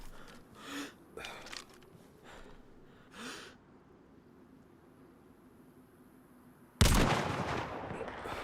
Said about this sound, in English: Either that or they're shooting zombies